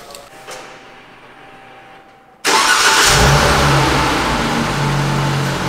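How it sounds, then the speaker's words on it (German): A few seconds of quiet, then a small V6 pickup engine cranks and catches, settling into a steady, rumbling idle close by. "Es ist einfach nur ein kleiner V6."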